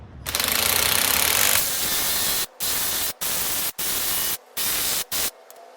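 A cheap Harbor Freight impact wrench works on the sprocket of a CBR600 F3 motorcycle: one long loud hammering burst, then five short rattling bursts separated by brief pauses.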